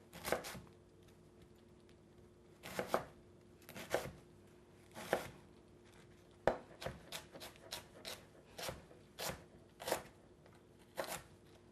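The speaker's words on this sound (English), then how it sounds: "just chop this up the same way you did the green, very thinly sliced" A knife thinly slicing purple vegetables on a cutting board, producing a series of crisp, close, separate chops at an uneven rhythm, with quiet gaps between, no talk.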